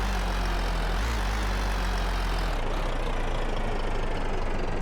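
An inline-four prop engine built in Garry's Mod idles steadily with a low rumbling throb, loud and constant, and shifts to a rougher, faster pulse about halfway through, with no voices over it.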